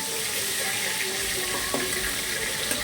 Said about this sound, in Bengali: অবশ্য মাগুর মাছগুলো কিন্তু একটু ফোটে।